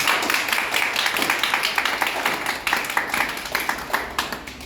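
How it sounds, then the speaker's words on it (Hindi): An audience at a seminar claps enthusiastically, a dense run of overlapping handclaps that swells and continues throughout, with a faint voice beneath. "इसलिए एक बार शानदार ताली बजाना।"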